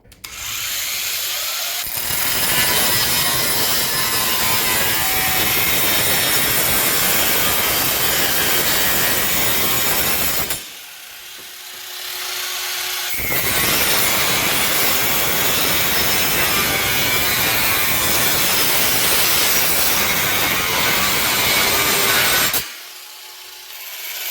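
An Ozito 18V cordless angle grinder whines harshly as it cuts through metal in two long, loud stretches. There is a brief pause between them and no talking.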